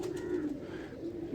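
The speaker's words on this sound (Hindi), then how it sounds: "हरा कबूतर है, इसका रंग जो है वो हरे कबूतरों का" A green-eyed Indian breeder pigeon coos softly and continuously, a low steady murmur heard close up without any voices.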